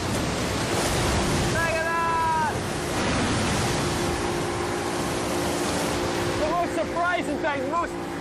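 A steady roar of rushing water and surf from a tidal wave surging up a river fills the clip, with wind buffeting the microphone and voices calling out over it.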